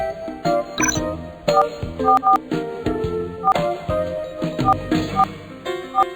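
A telephone number dialed on a keypad in a children's cartoon: a run of short, clear beeping tones, one after another in uneven rhythm, with cartoon background sounds between them.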